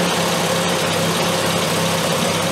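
A car engine with an SU carburetor idles steadily and loudly while warming up, a constant low rumble with slight vibration and no voices.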